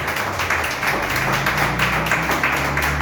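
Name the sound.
congregation applauding in church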